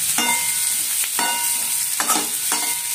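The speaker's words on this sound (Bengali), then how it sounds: "এক মিনিট মতো ভেজে নেব" Vegetables for Bengali shukto fry in a pan with a steady, loud sizzle, broken by a few strokes of a stirring spatula, close by and without talking.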